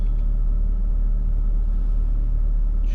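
A Mercedes W220 S55 AMG with a roughly 600-horsepower engine idles in sport mode, a steady deep low rumble, close and continuous with no voices.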